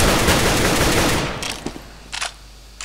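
Counter-Strike: Global Offensive weapon fire: a loud, dense burst of rapid shots, then a few short, sharper bursts separated by pauses.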